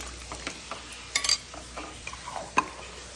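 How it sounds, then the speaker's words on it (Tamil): Mutton chops are stirred in a pan with a little water, giving scattered scraping clinks and soft sizzling. The sounds are sparse and moderately quiet, with no talk. "நல்லா கிண்டிக்கோங்க."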